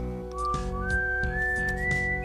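Someone whistles a bright, steady tune that slides gradually upward in pitch, close and clear over a low rumbling background, with no talking.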